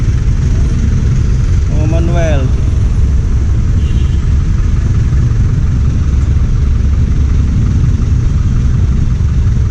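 A motorcycle engine runs loud and close in a steady, unbroken rumble throughout, with a brief spoken name and a short rising whistle-like sound near the start.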